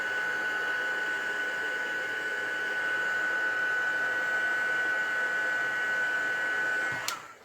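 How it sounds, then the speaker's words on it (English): A heat gun embossing a stencilled card blows with a steady, loud whooshing whine and a constant high tone, running continuously for several seconds before cutting off with a click. "I really need a quieter heat gun, I think."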